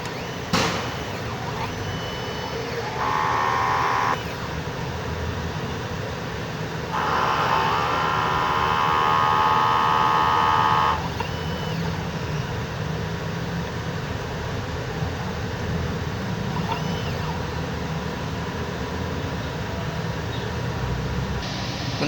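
A 60 cm DTF printer runs a print head cleaning cycle, a steady mechanical whir and hum with two bursts of higher pump-like whine in the middle, close and continuous with no talking.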